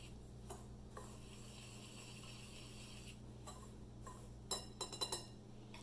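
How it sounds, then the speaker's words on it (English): Rava idli batter with baking soda and baking powder being whisked, faint soft stirring with quiet clicks that turn into a quick run of sharper taps near the end. "we are going to mix it nicely with a whisker"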